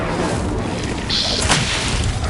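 Incendio fire spell cast in the Hogwarts Legacy video game: a loud, sustained whooshing roar of flame with a bright burst partway through, over constant dense game audio.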